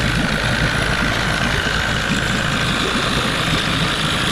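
A used outboard motor idles a bit high, a steady continuous low engine rumble with an even hum, close and loud, no voices.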